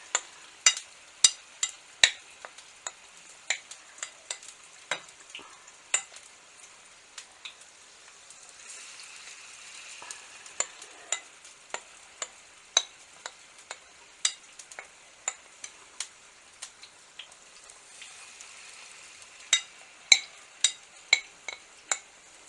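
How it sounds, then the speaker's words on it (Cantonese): Hash browns deep-frying in oil over low heat, crackling with scattered sharp pops and spits over a faint steady bubbling hiss, close and fairly quiet. "慢火炸，用慢火炸慢。"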